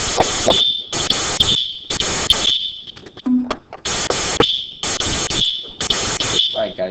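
Building fire alarm blaring during a fire drill in a lecture hall, a loud repeated piercing electronic tone in long regular bursts with brief gaps, one short break partway through.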